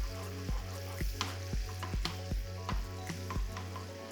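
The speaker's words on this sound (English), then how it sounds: "And then emulsify that together. Or just stir it together." Creme fraiche being stirred into a simmering sauce in a pan for a potato bake, with a steady sizzle and a regular series of spoon scrapes and knocks about every half second; no one speaks.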